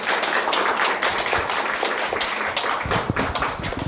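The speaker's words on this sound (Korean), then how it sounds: "박수 부탁드립니다" After a lecture on ecological spirituality at a Catholic cultural center, the audience claps in a dense, steady burst that lasts throughout, with individual claps blurring into a continuous patter.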